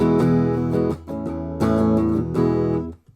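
Electric guitar chords played through a compressor pedal switched on, giving a squashed, even, sustained tone; three strummed phrases ring out loud and close with no talking, fading at the end.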